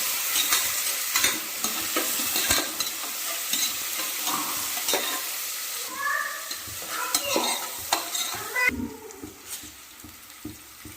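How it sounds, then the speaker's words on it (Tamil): Tomatoes and onions sautéing in a pan for basmati veg biryani, a steady broadband sizzle broken by frequent scraping stir strokes, close and loud, fading a little near the end. "தக்காளி போடலாம் நல்லா வதங்கட்டும்"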